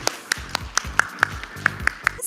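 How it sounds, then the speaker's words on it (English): An audience at a fireside chat at MMA Impact 2023 gives a thin round of claps: about nine sharp, evenly spaced hand claps, fairly close and clear, with no talking over them. "Let's have one more round of applause for both of them."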